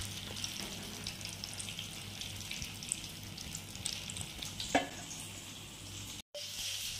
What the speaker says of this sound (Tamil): இப்போ எண்ணெய் ஊற்றி மிதமான சூட்டில் வச்சிருக்கேன். கோல்டன் பிரவுன் ஆன பிறகு எடுத்துடலாம்